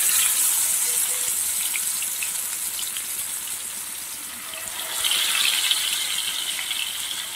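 Four thick pieces of fish frying together in oil make a steady, loud, hissing sizzle that swells slightly toward the end, with no voices.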